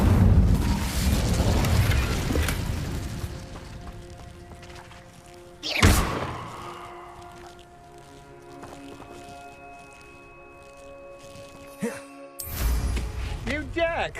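A spell in Hogwarts Legacy ignites with a deep whooshing burst, followed by a sharp flaring impact midway and another burst near the end over low ambient game music, and no one speaks.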